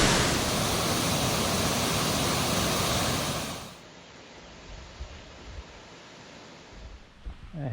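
Waterfall in Mauritius, a loud rushing roar of falling water filling the first few seconds before dropping abruptly to a much quieter background with scattered faint bumps and rustles.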